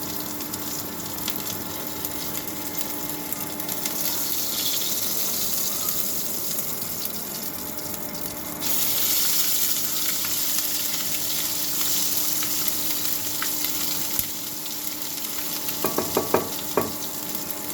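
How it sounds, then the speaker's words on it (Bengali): Crushed ginger fries in hot oil after nigella seeds, giving a dense, steady sizzling hiss that swells midway and ends with a few sharp spatters and clinks, close up and without talk. "কালো জিরেটা দেওয়ার পর আমি দিয়ে দেব বেশ কিছুটা আদা, যেটা আমি থেতো করে রেখেছি।"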